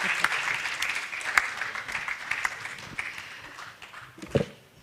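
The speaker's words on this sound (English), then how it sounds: "A round of applause for her as she comes up." Audience applause at the Africa Women's Forum as a speaker comes up, steady moderate clapping with a few sharper claps and some faint voices underneath.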